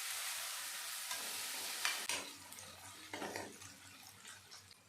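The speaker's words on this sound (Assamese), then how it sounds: "ইয়াত ডাঙৰ চামুচে 2 চামুচ আদা নহৰু বটা দিছোঁ। এইখিনি কেঁচা গোন্ধটো যোৱালৈকে ভাজি ল'ব লাগিব।" Onion and ginger-garlic paste fry in a pan, a soft sizzle broken by a few scraping stirs of a spoon, close by and fairly quiet.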